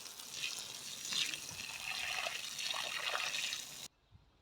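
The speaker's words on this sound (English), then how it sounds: "I've soaked that on like the full power just so as it'll go down between some of the cracks" Garden hose running at full power, soaking water down into the cracks between breeze blocks of a raised bed: a steady, close hiss and trickle of flowing water that cuts off abruptly near the end.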